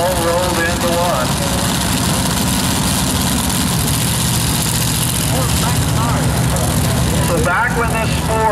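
Nostalgia Super Quick dragster, a combination dragster and altered, idles with a loud, steady low rumble and rough lopey firing throughout, with crowd noise and voices mixed in at a drag strip.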